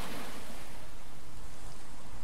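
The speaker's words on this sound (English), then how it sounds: "I do like those sound animations of the sea." Sea waves on a shoreline in a Star Wars Battlefront 2 mod, a steady, broad wash of surf noise at constant loudness with no voices.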